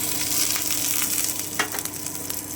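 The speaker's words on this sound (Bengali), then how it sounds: "আমার তেলটা কিন্তু গরম হয়ে গেল এবারে আমি শুকনো লঙ্কা আর সর্ষেটা দিয়ে দিচ্ছি" Dried red chillies and mustard seeds hitting hot mustard oil in a pan, a dense, steady close-up sizzle with faint stirring clatter, alone without voices.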